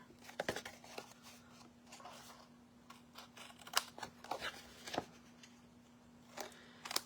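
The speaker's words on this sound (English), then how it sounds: "I'm just going to flip it over and just cut along the edge of the card" Close, quiet scissor snips cutting along the edge of a card and soft paper handling, irregular and spaced apart, over a low steady hum.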